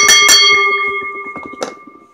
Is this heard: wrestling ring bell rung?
yes